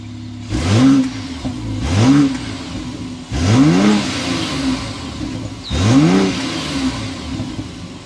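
A BMW X5 xDrive40i with a twin-scroll turbocharged inline six revs from idle four times, each blip rising sharply and dropping back, loud and close with the engine idling between blips.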